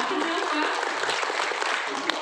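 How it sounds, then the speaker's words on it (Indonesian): An audience at a seminar claps steadily in a dense, close applause that carries on evenly throughout, with some voices mixed in under it. "Tepuk tangan dong."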